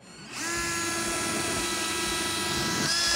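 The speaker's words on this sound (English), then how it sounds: "Scratch a mark, and you're ready to drill." A power drill whines steadily at high speed, close and loud, drilling into a Chevy S-10 truck frame, spinning up quickly and holding a constant pitch throughout.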